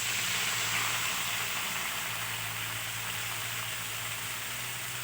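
Onions and panch phoron spices frying in hot oil in a home kitchen, a steady close hiss and sizzle running evenly throughout with no talking.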